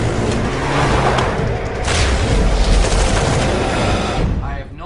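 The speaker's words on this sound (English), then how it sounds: "The guns and the bombs were awesome." Guns and explosions in the first-person shooter Medal of Honor (2010), a loud continuous barrage of rapid gunfire and booming blasts that fades out at the end.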